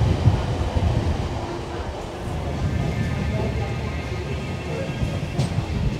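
A Manchester Metrolink tram pulling away from a stop, a steady rumbling rail roar with wind buffeting the microphone, heard close and continuous throughout.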